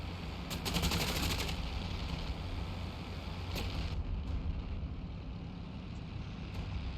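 A rapid machine gun burst from a World War I aircraft in IL-2 Flying Circus, a quick rattling string of shots at the start, then a steady engine drone continuing alone, fairly quiet overall.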